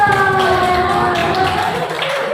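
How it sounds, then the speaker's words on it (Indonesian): Applause for a participant named Agung at a teachers' classroom session, a steady wash of clapping from a small group that runs the whole time beneath a sustained voice or tone. "tepuk tangan lagi buat Agung"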